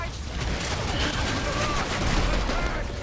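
Rapid gunfire from the video game Evolve, a dense continuous burst of shots that fills the whole moment at steady loudness.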